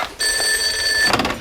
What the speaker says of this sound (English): That could be the phone.